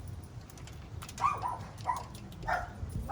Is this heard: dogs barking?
yes